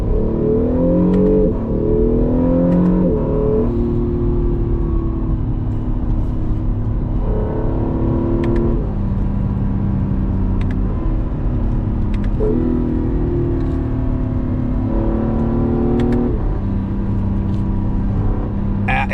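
An Acura NSX hybrid sports car weighing about 3,800 pounds is driven hard on winding back roads. Its engine note climbs repeatedly through the gears with brief dips between shifts, loud and close from inside the cabin.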